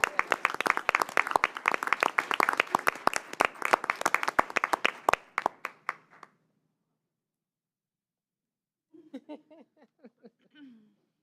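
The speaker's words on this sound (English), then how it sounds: "Can we give our students another round of applause?" Audience applause for students, a burst of many hands clapping that gradually thins out and stops, followed after a pause by a short stretch of faint talk.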